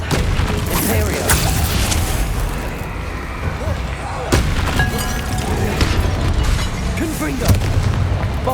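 Repeated Confringo and Bombarda spell explosions in Hogwarts Legacy combat, several booming blasts across the stretch over a dense, busy game mix with voices shouting spells.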